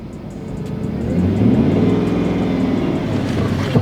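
A Hemi car engine running on a test drive, a loud close steady rumble that rises slightly in revs and holds, with no one speaking.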